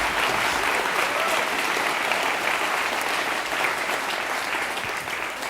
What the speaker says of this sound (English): applaud if you want to